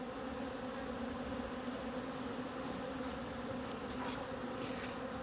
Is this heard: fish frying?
no